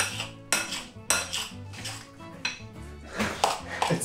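White bean guacamole is mixed in a bowl, with sharp repeated clinks and scrapes of a utensil against the dish coming in irregular bursts, close and clear, with no talking.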